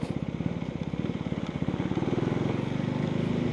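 Husqvarna Svartpilen 401 single-cylinder motorcycle engine while riding slowly on the road, a close, rapid, even putter of firing pulses that runs steadily and quickens slightly toward the end.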